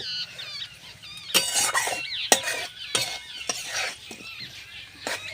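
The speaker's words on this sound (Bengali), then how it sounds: "এবার আমি ভালো করে মিশিয়ে নেব" A spoon stirs chili powder through a dry potato and okra sabji in a pan, with scraping clinks and a faint sizzle, several sharp knocks against the pan, and no talking.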